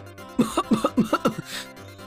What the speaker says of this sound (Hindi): लगभग तुरंत ही उसे खांसी आने लगती है